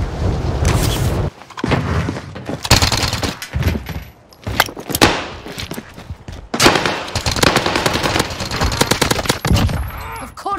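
Gunfire in the game Warzone: loud, dense bursts of automatic fire and booming shots, with brief gaps between volleys.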